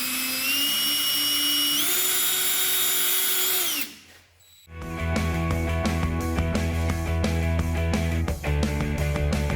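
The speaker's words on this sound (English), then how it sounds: "So once the drill goes through, the tap starts. You want to slow it down." Power drill turning a tap into a metal dash accessory rail on a Jeep JL, a steady whining tool run that stops briefly, then restarts with a harsher, choppy grinding whir, close and loud with no talking.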